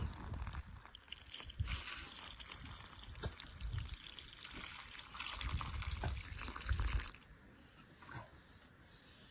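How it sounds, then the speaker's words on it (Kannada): Cut pieces of young jackfruit are rinsed in water, with pouring and sloshing bursts, splashy trickles and handling noises close by, no talking. "ಕಟ್ ಮಾಡಿ ಅದಕ್ಕೆ ನೀರು ಹಾಕ್ಕೊಳ್ತಾ ಇದ್ದೇನೆ. ನೀರು ಹಾಕಿ ಸ್ವಚ್ಛವಾಗಿ ತೊಳ್ಕೊಳ್ಬೇಕು."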